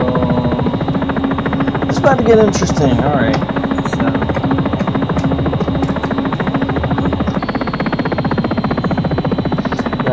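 A helicopter in the X-Plane 11 flight simulator makes a steady, loud rotor and engine drone with a buzzing whine that runs throughout, while someone talks over it.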